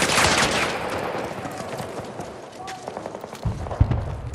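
Battlefield 2042 gunfire crackles in dense bursts of rapid shots and sharp reports, loud and continuous, with a heavier cluster of blasts near the end and faint game voices underneath.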